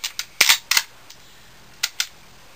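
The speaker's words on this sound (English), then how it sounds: "Close it up, shove your bolt back in" Mosin Nagant bolt-action rifle being closed up and its bolt reinserted, heard as a string of sharp metallic clicks and clacks, two louder snaps in the middle, then a short pause and two more crisp clicks, close and with no talk.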